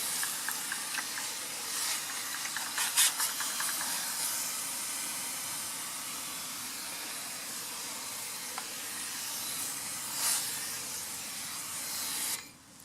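Water from a hand pump sprayer rinses a car tire, a steady broadband hiss of spray running nearly continuously with brief louder bursts and a sudden stop at the end.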